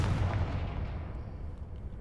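A Confringo fire-blast spell in Hogwarts Legacy bursts with a deep, rumbling boom that rolls and fades over a couple of seconds, loud and heavy in the low end.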